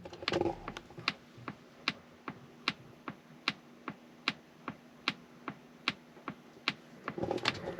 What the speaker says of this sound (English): did whatever they did to it to make this blinker sound